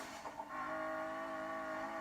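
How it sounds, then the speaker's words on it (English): A 1999 Nissan Skyline GTR V-Spec skidding in the racing game Need for Speed Payback, with a sustained tire squeal and engine whine that start after a brief rumble and hold steady and loud. "Nissan Skyline GTR"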